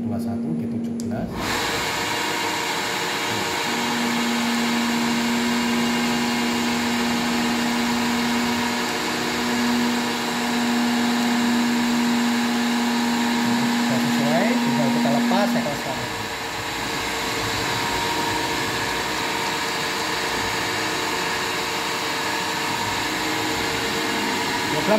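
A CNC milling machine with a KY980MC controller runs a program, giving a steady whirring hum with a sustained tone that stops partway through, then continuing machine drone at moderate level without talk.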